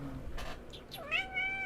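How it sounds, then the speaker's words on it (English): A house cat gives a single clear, rising-then-falling meow that stretches into a drawn-out cry, close by, over a soft room hum and a brief rustle just before it. "Meow meow."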